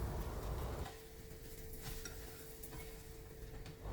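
Food cooking on its second side in a pan at home, a soft steady sizzle with stirring and light scraping close by, a faint hum running underneath, no voices.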